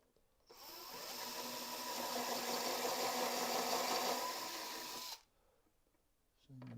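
Power screwdriver driving a steel screw into a wooden keepsake box, a steady whirring run of about five seconds that starts and stops abruptly, followed by a faint knock.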